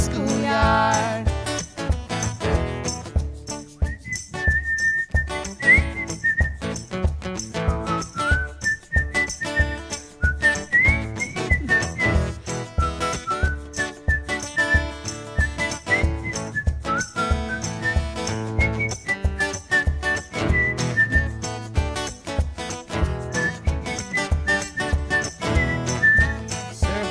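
Someone whistles a melody along to a live song, the bright tune riding clearly over a steady band with drums, sustained for nearly half a minute.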